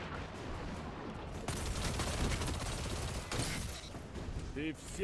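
Gunfire from a weapon in the video game Destiny 2, loud bursts of shots over continuous game action and effects, with a player talking over it.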